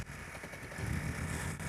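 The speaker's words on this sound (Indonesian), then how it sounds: "Saya menggunakan pisau lagi untuk memutar starter." An old police car's engine turns over as its starter is cranked with a knife, giving a rough, pulsing motor rumble that grows louder and steadier partway through, close by with no talk.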